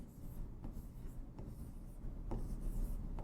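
Chalk or marker strokes scratch across a board in short bursts with brief pauses, a few sharp taps where strokes begin, close and fairly clear with no talking.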